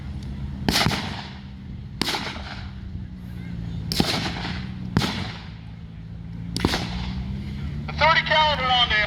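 Single heavy gunshots boom at a World War II Pacific reenactment, five loud blasts spaced a second or two apart with echoing tails, while people talk in the background.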